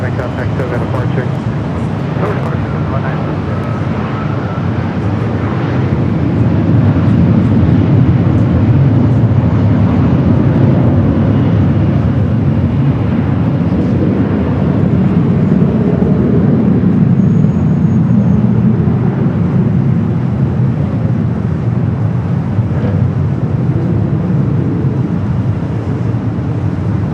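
Jet airliner taking off at Los Angeles International Airport, a continuous loud engine roar with a low rumble that holds steady and builds slightly, while a voice talks over it.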